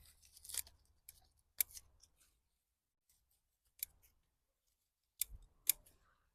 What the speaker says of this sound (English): Grab bunches of leaves, cut them off.